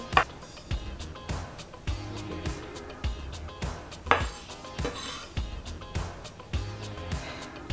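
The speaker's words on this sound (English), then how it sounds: "Two hard-boiled eggs. Let's give these a good, like, you know, rough chop." A knife roughly chops hard-boiled eggs, yolk and all, on a board, making a quick, irregular series of sharp taps and knocks at close range.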